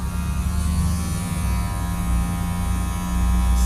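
A Wahl Magic Clip hair clipper runs steadily close by, giving a smooth, even electric buzz with a faint hum and no pauses, heard alone without talk.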